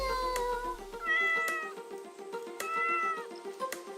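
A farm cat meows several times in a row, close and clear, with short rising-falling calls coming in a loose rhythm and no talk over them.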